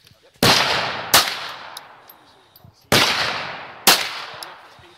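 Gunfire from target shooting: four loud, close shots in two pairs, each sharp crack followed by a long ringing decay.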